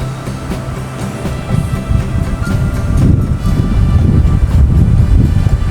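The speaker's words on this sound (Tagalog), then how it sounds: "Lakas ng hangin." Strong wind buffets the microphone outdoors at Paligawan in Carmona, Cavite, a loud continuous low roar that swells and gusts steadily throughout, with no voices.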